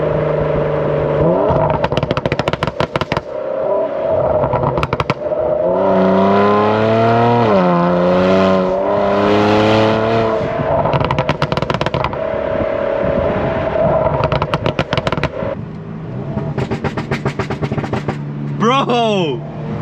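Tuned Kia Stinger engine revving hard, with rising and falling exhaust notes, bursts of crackling pops and bangs, and excited voices talking over it at close range.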